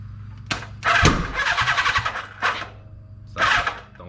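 A 1982 Kawasaki KZ550 motorcycle that has sat for ten years, with gas leaking into a puddle, is cranked several times close up. Its engine catches in short, loud, sputtering bursts that die away between attempts.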